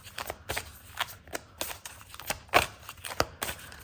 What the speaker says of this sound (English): I'm shuffling so weird.